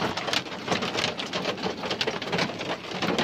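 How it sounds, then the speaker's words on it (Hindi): Hail falls outdoors in green hill country in Pakistan, a dense, continuous patter of icy pellets striking the ground with no voices. "ओले पड़ रहे"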